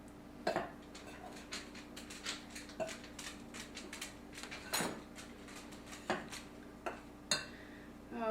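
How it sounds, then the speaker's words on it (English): A spoon knocks and scrapes in a bowl of cranberry mixture, making irregular soft clinks and taps at close range in a quiet room with no talk. "I'm going to combine that, try to mix in the ingredients as much as possible."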